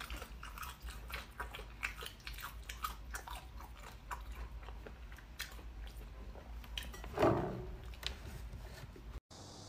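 Chewing of tender beef bone marrow in close-up, soft wet mouth squishes and smacks running throughout, with one louder slurp near the end and no talking.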